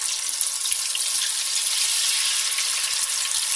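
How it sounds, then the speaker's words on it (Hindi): Marinated soya beans deep frying in hot oil in a kadhai, a dense, steady, hissing bubble that stays loud and even throughout, with no voices. "अब हम डायरेक्ट हम इसको फ्राई करेंगे।"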